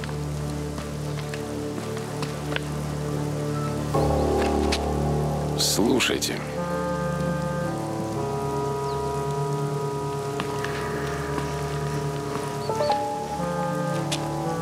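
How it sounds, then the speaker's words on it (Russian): Rain patters steadily on surfaces while people talk, with a brief sharp crackling burst partway through. "дождь начинается"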